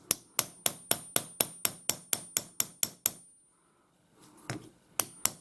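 A hammer drifts a bearing back into the blade guide housing of a generic 6x4 metal bandsaw, striking about a dozen sharp, evenly spaced metallic taps, pausing, then a few more blows, close and clear.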